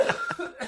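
A few short coughing bursts from a man during a sports talk discussion, close and moderately loud, spaced across a brief moment with no words spoken.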